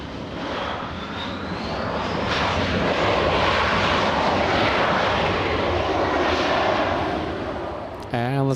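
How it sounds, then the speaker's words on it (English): An Airbus A330neo taxis toward remote parking at LAX, its engines producing a steady, broad roar that swells and holds for several seconds before easing off. "And let's go to the A330neo. This one being taken to the remote parking."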